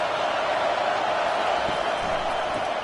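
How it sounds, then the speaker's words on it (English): A stadium crowd at a college football game produces a dense, steady roar of broad noise throughout, loud and unbroken with no distinct voices standing out. "This crowd trying to make life miserable for this offense."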